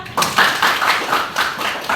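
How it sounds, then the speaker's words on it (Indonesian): Brief applause for a student in a school classroom, a short burst of claps from a small group, close and fairly loud with a few irregular taps, no talking. "tepuk tangan untuk Bunga."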